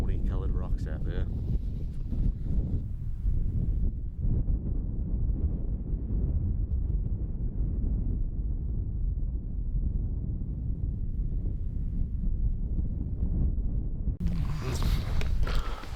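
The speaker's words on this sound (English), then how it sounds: "The wind is just cutting like a knife today." Strong, gusting mountain wind buffets the microphone in a steady low roar for the whole stretch during a Himalayan tahr bowhunt in New Zealand, with brief rustling bursts near the start and end.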